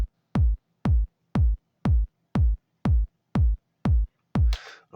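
A simple programmed kick drum beat: nine evenly spaced, punchy electronic kicks in a steady loop, close and loud with silence between hits, ending in a short noisy burst.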